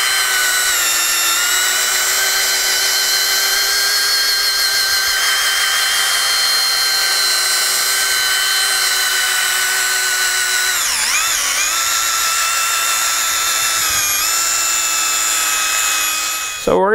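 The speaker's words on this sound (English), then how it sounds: "I'm gonna go for the zero RPM sanding." A wooden broccoli burl being sanded on a lathe, giving a loud, steady whirring drone with a slight dip in pitch near the end, and no talk over it.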